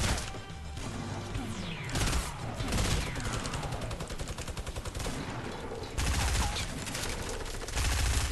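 Gunfire in a shooter video game: repeated bursts of shots and crashes in clustered volleys, loud and close, with brief gaps between exchanges.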